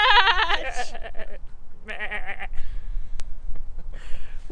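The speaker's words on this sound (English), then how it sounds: "we are stood next to a field of sheep going meh" Sheep in a field bleat loudly and close by, with several overlapping wavering calls in quick bursts separated by short pauses.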